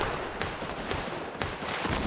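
Rapid gunfire in a shooter video game as two teams fight in a wooded area, with sharp overlapping shots and bursts scattered over steady battle noise.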